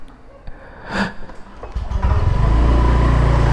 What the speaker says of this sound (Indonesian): gua masukin motor gua ya